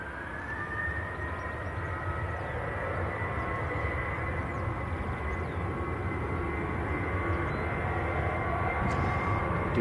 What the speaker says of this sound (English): That's Embraer coming out.